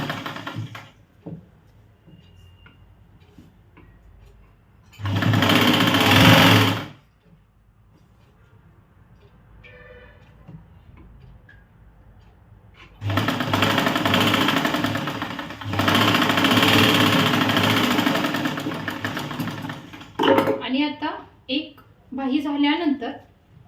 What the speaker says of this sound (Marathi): स्टिच करण्यासाठी असं करायचं आणि पुन्हा बाही लावून घ्यायची आहे पाठीमागची